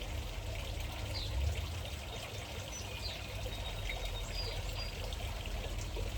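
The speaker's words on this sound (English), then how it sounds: "we're going to fill up our small tube to the 9 ml line" Pool water pours steadily into a small test tube, a soft, continuous trickling stream with faint splashes, heard alone at a low level for several seconds.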